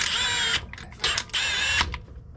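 A power tool runs in three short whirring bursts while brake caliper bolts are snugged on a 2014 Honda Odyssey's front brakes, loud and close with brief pauses between bursts.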